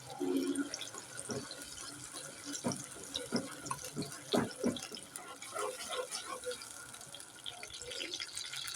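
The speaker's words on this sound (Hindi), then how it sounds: "तो हम मटर को धो लें" Peas being rinsed under a running kitchen tap, a steady wash of water splashing into a sink with occasional louder knocks and drips, with someone speaking over it.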